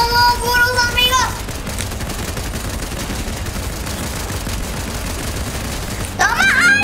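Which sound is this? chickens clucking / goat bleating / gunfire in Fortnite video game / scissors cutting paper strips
gunfire in Fortnite video game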